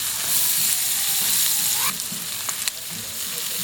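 Onions frying in a pot for chicken sopas, a loud, dense, continuous sizzle heard close up, with a couple of brief scrapes of a stirring utensil and no talking.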